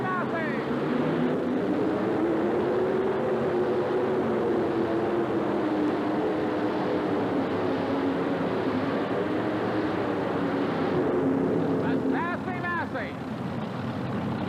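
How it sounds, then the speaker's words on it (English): A modified tractor in a 1988 truck and tractor pulling event, powered by multiple Milodon Hemi engines of nearly 600 cubic inches each, roaring loudly and continuously with a slowly shifting engine pitch, while a commentator talks over it. "And here's the Hemi engine called a Milodon. Nearly 600 cubic inches each."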